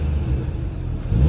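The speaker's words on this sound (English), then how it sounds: "We have the performance exhaust on. I can turn it off right here. I'm gonna give you some revs." Mercedes-AMG C43 four-cylinder engine with the performance exhaust on, giving a steady close rumble and whir as it revs in a short burst, with no voices.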